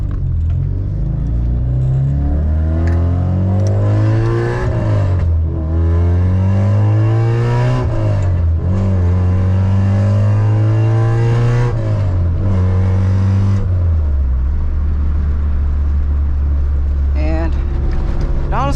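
A car with a faulty B16 transmission drives along, its loud, close engine droning and climbing in pitch as it pulls through each gear, dropping back between them, with a continuous rumble throughout.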